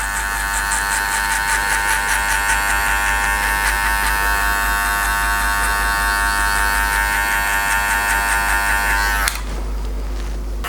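An electric hair clipper with its blade fully open buzzes steadily while cutting a guideline for a skin fade, a loud, close, continuous motor hum that cuts off abruptly near the end.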